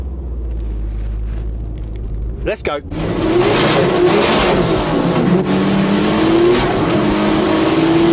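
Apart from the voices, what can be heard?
Volkswagen Golf R car engine revving and accelerating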